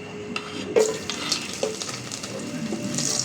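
Garlic and vegetables fry in a pan while being stirred, with a soft continuous sizzle and a few louder scrapes and knocks of the utensil against the pan.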